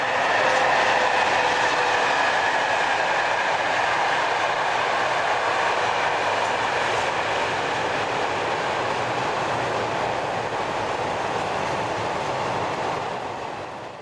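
Train 9626 on a service to Avignon passes near Agde in southern France, a loud, continuous rumble and roar of rolling stock with faint clickety-clack of wheels, steady throughout and fading slightly at the end.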